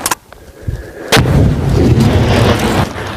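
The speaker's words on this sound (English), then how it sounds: "Go! Frag out!" A frag grenade goes off during a squad drill: sharp cracks, then a heavy blast at about one second followed by a sustained rumbling roar, loud and close, with no speech.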